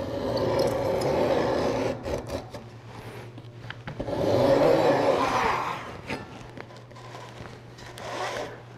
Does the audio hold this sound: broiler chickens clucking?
no